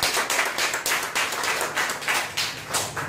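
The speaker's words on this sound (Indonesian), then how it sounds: "Tepuk tangan untuk Anda semua." Steady clapping from a modest crowd at a motivational member meeting in Banyuwangi, Indonesia, a dense patter of hand claps running throughout at an even, moderate level with no voices over it.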